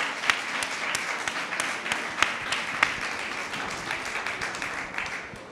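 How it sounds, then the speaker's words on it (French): Applause from a school audience for students of Lavoisier de Brive, a steady wash of many hands clapping with a few sharper claps standing out, continuous for the whole stretch with no voices over it. "On peut les applaudir très fort."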